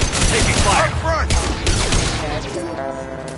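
Gunfire in the Mass Effect video game, a busy burst of shots layered with game effects and a voice, loud at first and easing off over a few seconds.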